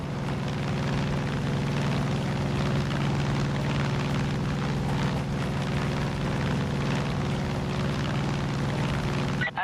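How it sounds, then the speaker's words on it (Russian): Cult airplane in Far Cry 5 drones overhead as a steady, continuous propeller engine roar, moderately loud and unbroken throughout with no voices. "Похоже, сектантский самолет выискивает базы сопротивления."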